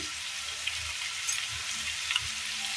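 Coriander and turmeric powder frying in hot oil for a Kerala mezhukkupuratti, a soft steady sizzle with faint stirring clicks, quiet and close.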